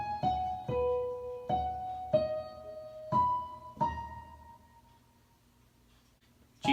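A piano slowly plays a melody, single sustained notes struck one at a time with gaps between, close and fairly soft, the last tone fading out.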